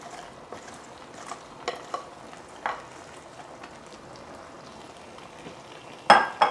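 Cabbage goes into a frying pan a little at a time, giving a quiet background sizzle broken by scattered stirring clicks and a louder rustling, scraping burst near the end.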